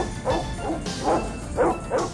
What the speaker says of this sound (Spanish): donde es sorprendido por un perro